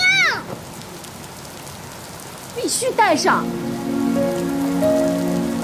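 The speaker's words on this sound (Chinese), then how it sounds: "外面下雨了" Steady rain patters throughout while a child cries and wails, with voices speaking over the downpour.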